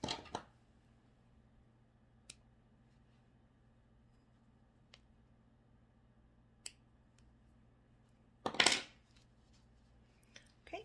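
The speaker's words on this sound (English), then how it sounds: "And then you'll snip off these ends." Scissors snip off loose yarn ends on a twisted knit ear warmer: one crisp, close cut stands out from near silence, with a few faint clicks of handling before it.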